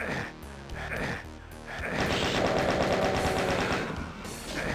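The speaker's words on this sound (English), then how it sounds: "I want to chain gun them" Rapid chaingun fire in Voxel Doom 2, a loud continuous mechanical rattle of shots running nearly the whole stretch, with brief gaps early on before a sustained burst.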